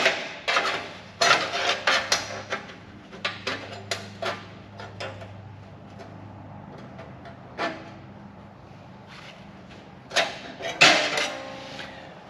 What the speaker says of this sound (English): Nothing a hammer can't make it fit.